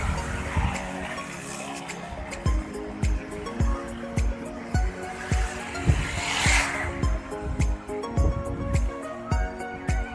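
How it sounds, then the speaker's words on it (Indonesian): Traffic noise at a roadside, with repeated thuds and many motorbikes rushing by one after another, loud and close, over a constant background rumble. "suara sedikit berisik karena ada banyak motor"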